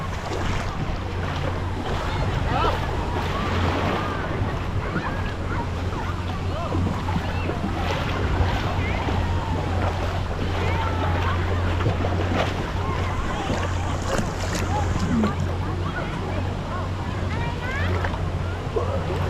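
Artificial waves surge through the wave pool at Siam Park water park in Thailand, a constant, loud wash of churning water with wind noise and people talking nearby.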